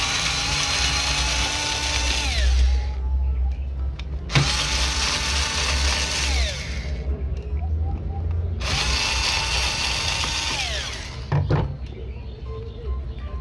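Small screws being driven out of the cooling fan of a Lenovo G40-70 laptop with a power screwdriver, three whirring bursts with pauses between them, steady and close, with a faint thud near the end.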